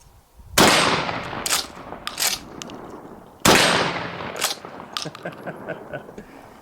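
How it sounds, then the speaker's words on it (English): Two loud, close shotgun blasts of Remington Express double-aught buckshot at 25 yards, about three seconds apart, each with a sharp crack followed by a decaying echo and clattering tail outdoors. "Going to start off with some Remington Express double alt buckshot. Going to do 2 rounds, 25 yards."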